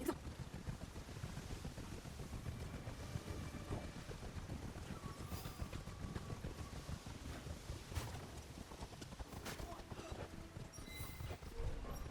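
Horse hooves clip-clop along a road in the Assassin's Creed Shadows video game, a steady riding rhythm under a light wind-like rush with occasional sharper knocks.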